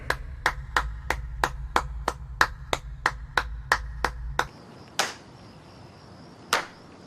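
Hands clap in a quick, even rhythm of about a dozen crisp, close claps over a low musical backing, then two more isolated claps ring out after the music stops.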